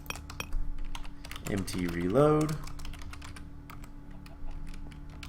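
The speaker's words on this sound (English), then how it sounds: "I'm going to type in that command again just to make sure" Typing a command on a computer keyboard: a light scatter of clicks spread through the clip, partly under a short stretch of spoken words.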